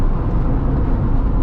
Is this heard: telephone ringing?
no